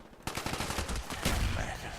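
Rapid automatic gunfire in the Call of Duty Black Ops video game erupts suddenly after a quiet moment, a fast stream of close, punchy shots continuing to the end.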